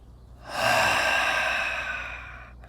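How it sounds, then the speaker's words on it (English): One long pursed-lip exhalation from a breathing exercise: a close, airy hiss swells in after a quiet start, holds steady for about a second and a half, then slowly tapers off. "the more pressure you put into the pursed lip component of the breath,"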